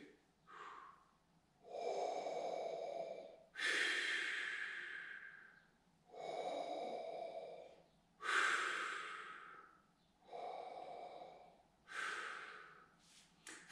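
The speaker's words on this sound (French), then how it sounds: "On replace nos mains, on pense à une respiration grave," Deep, slow, heavy breathing in the style of Darth Vader, done as a breath exercise for singing. About seven long, loud, airy breaths come in an even rhythm, with short quiet gaps between them, close to the listener.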